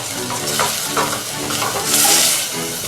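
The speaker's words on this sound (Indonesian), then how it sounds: "kita panaskan, aduk sampai dia menyatu" Rendang being stirred as it heats in a pan, a steady sizzle and frying hiss beneath repeated scraping strokes of the spoon, close and fairly loud throughout.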